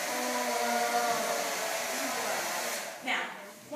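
A hair dryer switched on for a ping pong ball experiment runs as a steady whirring hum with a faint tonal whine, then briefly shifts near the end.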